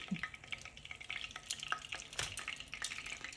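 Taquitos fry in hot grease, a soft steady sizzle broken by quick crisp pops and crackles, close and fairly quiet, with no talking.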